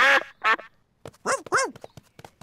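Several loud, raspy cartoon duck quacks from Peppa Pig in quick bursts, close by, with short pauses and small clicks between them.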